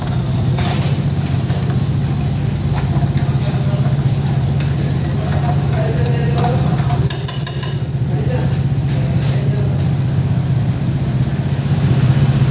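Local chicken frying with spices in a pan, giving a steady close sizzle with occasional stirring scrapes and clinks throughout, alongside a constant low hum.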